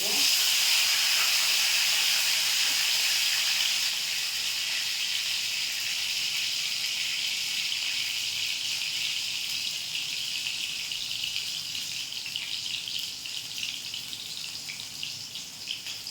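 Pieces of lentil and soybean dhoka fry in hot oil, giving a steady, close sizzle and hiss that is loudest at first and eases slightly as it goes on.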